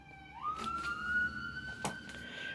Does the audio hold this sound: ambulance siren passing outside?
yes